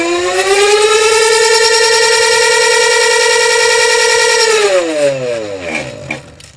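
Electric bicycle hub motor spinning at full speed, a loud steady high whine with strong harmonics that holds for several seconds, then drops in pitch as the wheel winds down.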